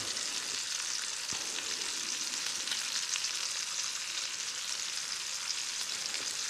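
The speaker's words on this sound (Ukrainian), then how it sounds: "добре шкварчить, чуєте" A steady, close hiss and crackle of steak sizzling in a hot frying pan, with a couple of faint clicks and no voices.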